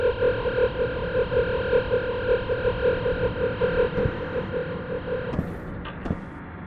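Pulsing, warbling electronic scan tone from the microorganism-analysis game Microbial Sector, a steady throbbing hum with a wavering buzz that cuts off near the end into a couple of soft clicks.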